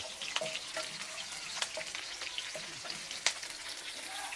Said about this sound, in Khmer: នេះយើងបំពងខ្ទឹមសម្រាប់ចាក់ឆាយរបស់យើង